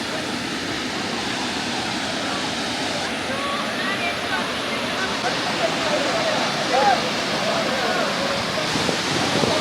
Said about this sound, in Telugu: వాటర్ ఫాల్స్ చాలా బాగున్నాయి.